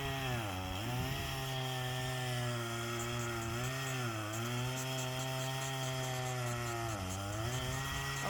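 A chainsaw cuts logs off a fallen tree that has lain in place for six years. The engine drones loud and close throughout, its pitch sagging three times as the chain bogs into the wood, then recovering.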